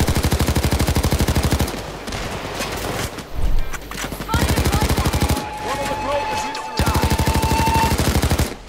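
Rapid automatic gunfire in PayDay 2, loud close bursts of fast evenly spaced shots separated by short gaps of scattered noise.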